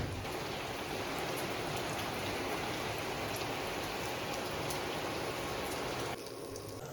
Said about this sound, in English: It's a rainy season in the south of Thailand, so it rains almost every day here.